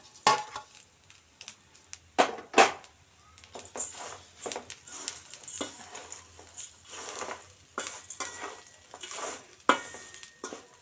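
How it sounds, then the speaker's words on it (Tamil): Fried flattened rice (aval) being tossed and stirred into a snack mixture in a bowl, with crisp rustling patter and scattered sharp utensil clinks coming up close at an irregular pace. "இந்த அவலையும் போட்டுப்போம் போட்டு எல்லாத்தையும் மிக்ஸ் பண்ணி கலந்துட்டால் அவல் மிக்சர் ரெடி"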